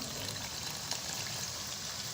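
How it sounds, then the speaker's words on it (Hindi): Half a glass of water is poured into white maash daal frying in a pan, making a soft, steady hissing gush that stays faint and continuous throughout. "5 मिनट तक दाल की भुनाई करने के बाद मैं आधा गिलास पानी ऐड कर रहा हूँ।"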